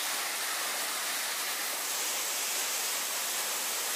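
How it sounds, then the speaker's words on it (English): Waterfall at a gorge swimming hole in Australia, a loud, steady broadband roar of falling water filling the whole clip with no voices. "I've made it up to a Questro Gorge and waterfall and swimming hole."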